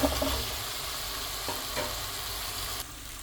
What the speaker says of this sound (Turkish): Biraz biber, biraz domates salçası. Onu da kavuruyorum.